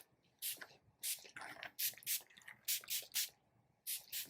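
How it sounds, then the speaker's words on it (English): Sea salt spray misted onto hair during a long mullet haircut, heard as several short, crisp hissing bursts in quick clusters, close and fairly quiet, with no talking. "So sea salt spray."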